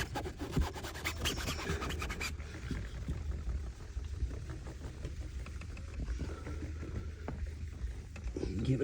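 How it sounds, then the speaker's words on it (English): Car window being scrubbed before tint installation on a 2016 Buick, a close, steady rasping rub that is brisk at first and then softer, with faint background noise. "Give it a good scrub."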